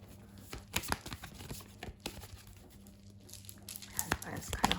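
A deck of affirmation cards is shuffled by hand, giving soft irregular papery riffles and crinkles, close and quiet, with a faint low hum underneath.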